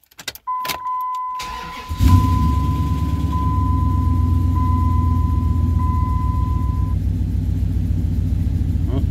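A 2002 Dodge Ram 1500 pickup engine cranks and catches after about two seconds, after an upstream oxygen sensor replacement, then settles into a loud, steady rumbling idle while a thin electronic tone beeps faintly behind it.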